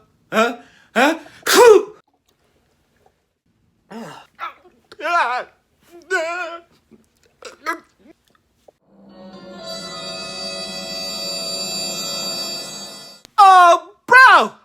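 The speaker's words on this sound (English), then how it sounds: "you sneeze, cover your mouth" A person's sneeze, comedic and uncovered, bursts out in a few sharp explosive bursts, followed by a sustained harsh tonal noise, with nearby talk before and after.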